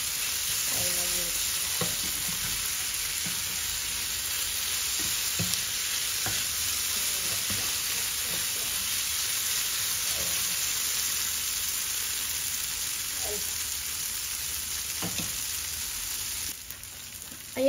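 Sliced bitter gourd sautéing in a hot pan for ginisang ampalaya with eggs, a steady close sizzle broken by soft scraping and tapping of a spatula as it is stirred, with no voices.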